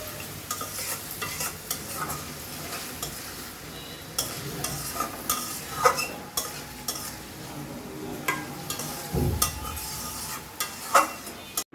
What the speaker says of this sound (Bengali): ভালো করে মশলাটা কষাই নেব